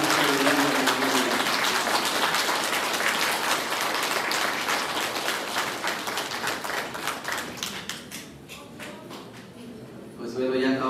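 Sustained crowd applause at a patronal feast Mass for the Virgen de San Juan in a chapel, dense and steady clapping that gradually thins toward the end, with a voice speaking over it.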